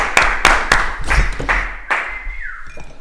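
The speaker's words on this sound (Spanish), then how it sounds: "Aplauso." A handful of people clap in sparse, separate bursts, about six distinct claps at the opening of a Spanish-language podcast, close and fairly loud, fading into a brief tonal tail.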